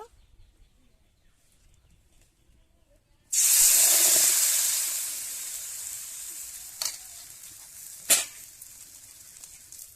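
Rice flour batter for chitol pitha hits a hot oiled pan with a sudden loud hiss that slowly fades into a steady sizzle, followed by two sharp clanks of a lid or utensil.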